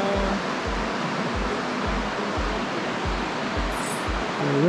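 The Swat River rushes past near a hydropower dam, giving a steady, dense roar of flowing water close by. A rhythmic low thumping runs underneath it, and no one speaks.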